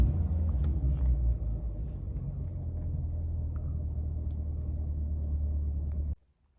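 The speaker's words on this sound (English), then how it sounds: "Just restart the car." Engine of a 2023 Corvette C8 Z51, mid-engine, rumbling at a steady low idle after a restart, loud and close with no talk, cutting off abruptly near the end.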